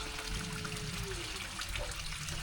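A small water fountain trickles steadily into a mini pond built beside a staircase, a soft continuous liquid dribble over broadband background wash.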